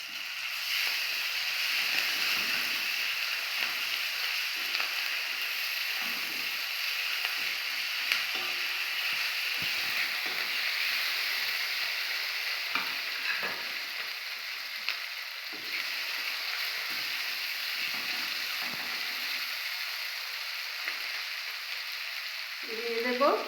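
Onions browning in a pan with cumin paste and ginger paste added, frying with a steady close sizzle and occasional stirring scrapes throughout.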